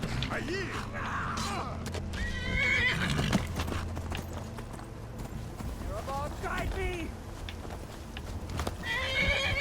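A horse whinnies and snorts over rhythmic hoofbeats, with mechanical creaks in a game-like scene; the neighs come several times at close range.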